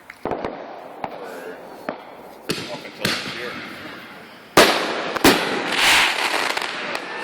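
Consumer fireworks go off in a string of sharp cracks and booms, some single and some in quick clusters, the louder bursts followed by crackling and hiss, with people talking nearby.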